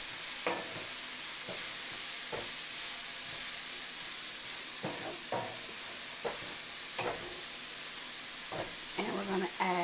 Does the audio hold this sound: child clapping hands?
no